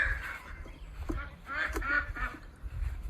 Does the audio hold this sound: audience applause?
no